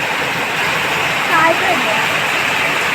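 A dense, steady roar of heavy rain and wind fills everything, loud and close, with a faint voice briefly rising under it.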